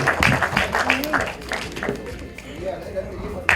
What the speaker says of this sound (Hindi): एक बार तारा के लिए जोरदार ताली होनी चाहिए प्लीज